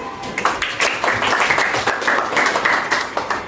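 An audience applauds at a religious talk, a steady burst of many hands clapping close by for a few seconds with no voices over it.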